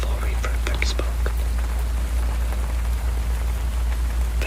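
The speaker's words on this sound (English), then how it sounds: "the rain hammering against the front door" Rain hammering against a front door on a rainy night, a dense steady patter with a low constant rumble and scattered sharper drops, with faint whispering in places.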